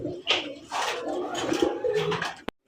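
A pair of large blue barless beauty pigeons cooing close by in a loft, several throaty coos and soft calls in quick succession, ending with a brief sharp click.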